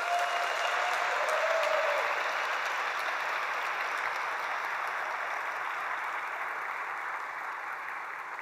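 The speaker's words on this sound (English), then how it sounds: "I just want to give her a huge round of applause." Sustained audience applause fills a keynote hall at a Rails conference, a dense, steady wash of clapping from a large crowd that holds strong throughout and tapers only slightly toward the end, with no talk over it.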